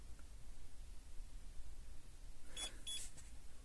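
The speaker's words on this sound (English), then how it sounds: "We just received a double bleep, and now we can start the vehicle." A Starline i96v2 immobiliser fitted to a Mercedes E Class gives two quick, high bleeps in close succession, faint against a quiet, steady background hum inside the car.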